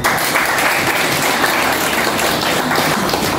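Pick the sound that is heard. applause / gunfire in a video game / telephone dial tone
applause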